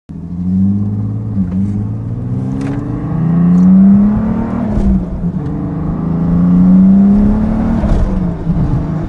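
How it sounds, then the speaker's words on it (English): A twin-turbocharged VR6-swapped, all-wheel-drive, six-speed manual Volkswagen New Beetle GT6 revs up in loud, rising pulls, with sharp turbo blow-off bursts between surges and a constant engine drone close by. "you get a lot of blow-off noise right off the bat"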